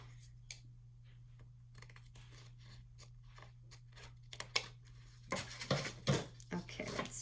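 Paper being trimmed with scissors for a shaker mini album, quiet at first with a few faint snips, then a denser run of crisp cutting and rustling near the end, close and alone.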